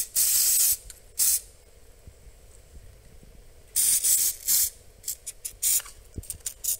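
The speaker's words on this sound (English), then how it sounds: "So what we're going to do is go ahead and spray these up." Bursts of aerosol spray hiss onto the battery terminals of a Volkswagen Taos, a few long sprays and several short ones, close by, with faint clicking between them and no talking.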